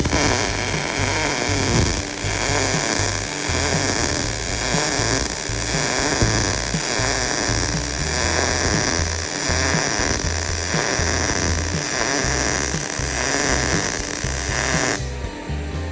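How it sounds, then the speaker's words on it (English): MIG welding with a Miller Multimatic 220 AC/DC multiprocess welder, giving a loud, steady, crackling buzz that runs unbroken for about fifteen seconds before cutting off, with no speech. "I need to do some MIG welding"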